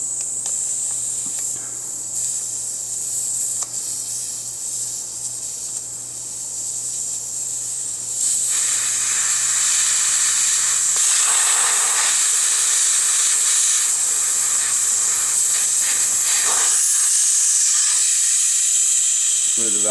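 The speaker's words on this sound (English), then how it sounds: "let a little bit of air out so we don't shoot out" Air hisses steadily out of a tire valve stem as the core is removed, a sharp, continuous hiss that swells louder partway through and holds strong, with faint background noise before it.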